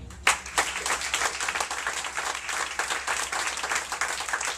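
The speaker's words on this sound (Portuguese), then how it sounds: "Então aplauda ao Senhor." A church congregation breaks into applause during a worship service, many hands clapping in a dense, steady patter after a sharp onset, filling the room at moderate loudness without speech.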